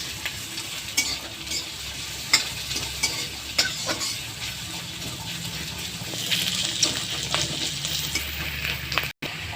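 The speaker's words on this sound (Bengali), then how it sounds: "পেঁয়াজ, লঙ্কা, রসুন কুচি দিয়ে দেবো। দিয়ে একটু হালকা লাল করে ভেজে নেব।" Chopped onion, green chili and garlic frying in a pan, a continuous close sizzle punctuated by occasional spoon scrapes and taps, growing slightly louder toward the end before a brief cut.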